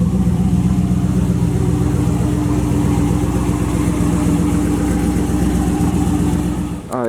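Turbocharged Camaro with a Huron Speed turbo kit idling after being restarted, a steady, loud, close-up rumble with a constant lumpy pulse, cutting off abruptly at the very end.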